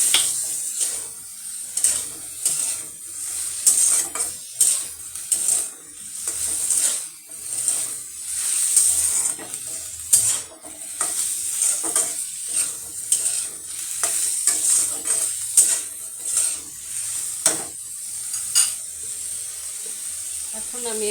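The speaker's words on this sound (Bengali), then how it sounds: "এখন আমি এখানে ভেজিটেবলগুলো দিয়ে দিলাম।" Previously boiled vegetables for a curry, with onion and a little tomato sauce, frying in a pan: steady sizzling under repeated scraping stir strokes, close and fairly loud throughout.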